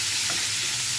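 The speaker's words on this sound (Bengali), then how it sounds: "মাছটা একটু ভেজে নিলাম" Shrimp frying in oil with a pinch of turmeric and salt, a loud, dense, continuous sizzle close up, brief and unbroken, with no talking.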